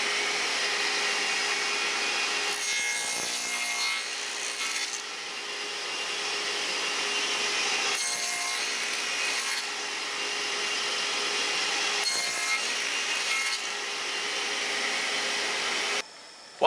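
A radial arm saw fitted with a dado head cuts through wood, giving a loud, steady broadband whine that runs almost the whole time with slight surges as the blade bites, then cuts off near the end.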